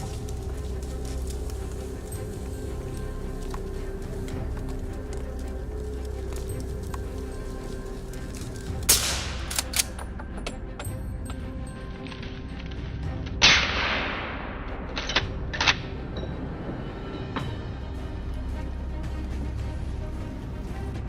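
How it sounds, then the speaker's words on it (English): A hunting rifle shot at a wild boar on a Texas farm, one sharp crack followed by a few smaller impacts, heard outdoors over steady background noise with no talking. "A shot cracked through the air, and in a flash, the boar lay still."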